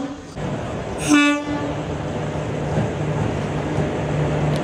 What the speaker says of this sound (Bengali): ট্রেন ঢুকে গেছে আমাদের।